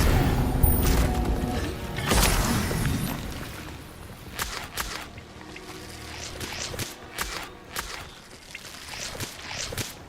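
Spell-casting effects from the Hogwarts Legacy video game: a sharp magical burst followed by a series of crackling, shattering impacts and whooshes over a layered game soundscape, with no talking.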